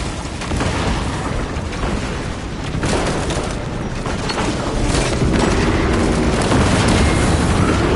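Cannons fire in a PS5 game, a dense, loud barrage of booms and blasts rolling on continuously for several seconds.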